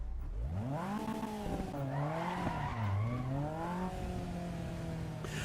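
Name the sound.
race car engine and tire squeal in Assetto Corsa EVO video game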